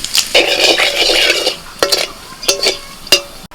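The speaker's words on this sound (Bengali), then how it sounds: "তেলের মধ্যে ফোড়নে দিচ্ছি তেজপাতা এলাচ দারচিনি লবঙ্গ আর দিচ্ছি একটুখানি গোটা জিরে" Whole spices (bay leaf, cardamom, cinnamon, cloves and cumin seeds) crackle in hot oil for egg curry, a steady close sizzle for about a second and a half, then a few sharp clinks and stirring scrapes against the pan.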